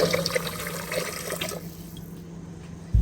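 Water for biryani pours from a glass in a steady splashing stream for about a second and a half, then stops, leaving quiet room tone and a short bump at the end.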